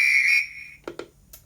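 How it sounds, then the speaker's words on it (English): Guard whistle sound effect from a Bachmann Class 66 model locomotive in GBRF livery: a loud, shrill sustained whistle tone lasting under half a second, fading away, followed by a couple of short clicks. "Guard whistle. Let's see what that's like."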